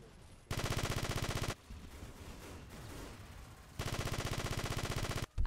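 Rapid automatic gunfire from a shooter video game comes in two long, loud, evenly ticking bursts, with a quieter gap of rumbling action between them and a short crack at the end.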